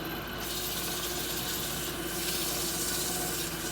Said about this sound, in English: Shouldn't take a whole lot of sanding.